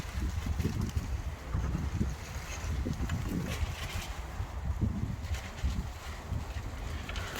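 Wind blowing outdoors beside copper pipework, a continuous gusty low rumble buffeting the microphone with faint bird calls, no talking.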